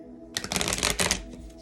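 Light Seers Tarot cards riffled in a quick shuffle, a dense flurry of crisp papery flutters in two close bursts that trail off into softer rustling, loud and near with no voices.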